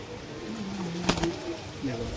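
Pakistani high flyer pigeons coo in low, throaty rolling phrases at close range, with a brief sharper burst midway and a faint voice in the background.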